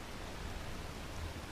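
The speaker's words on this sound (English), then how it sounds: "It started raining a bit." Light rain falling outdoors on a canoe trip along the Petawawa River in Algonquin Park, a soft, even, continuous hiss with no other distinct sounds.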